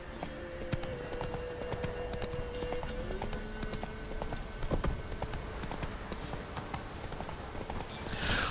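Rhythmic hoofbeats of Roach, the horse in The Witcher 3, galloping steadily with a brief whinny, alone and moderately loud throughout.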